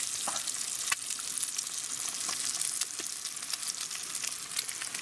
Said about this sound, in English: He's got the eggs on.